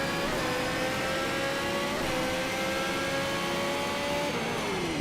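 A race car's engine in Need for Speed Shift 2: Unleashed drones and climbs steadily in pitch after an upshift, loud and continuous, with the whine rising and briefly dipping as gears change.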